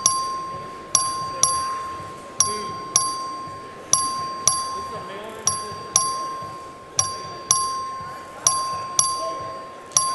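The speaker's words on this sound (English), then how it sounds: "The clerk will ring the bell." Voting bell in a state House chamber, rung repeatedly by the clerk in evenly spaced sharp rings about once a second, each with a ringing tail, over faint room murmur.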